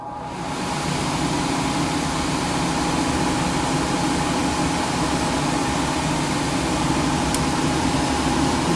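Freshly cleaned furnace blower fan running steadily, a continuous close whooshing hum that swells in over the first second and then holds even, with one brief click late on.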